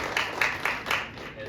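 Faint applause from an audience at an affordable housing kickoff event, a handful of soft distant claps at a regular pace over a low room murmur.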